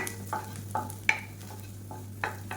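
Garlic and ginger sautéing in butter over moderate heat, a soft sizzle under repeated clinking and scraping of a spoon stirring in the pan, close by and with no speech.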